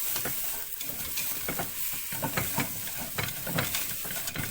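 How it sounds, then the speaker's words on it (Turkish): Tomato paste frying in a pot while being stirred, a loud continuous sizzle and hiss broken by repeated scraping strokes of a spoon, close up. "Yok, salçayı biraz içine kavuracağım."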